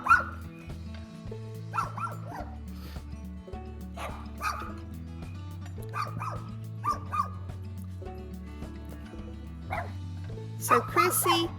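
Two dogs bark at geese on a spring garden property, sharp repeated barks and yips coming in bursts over a steady low hum, with a voice talking in between.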